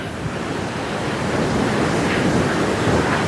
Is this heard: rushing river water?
yes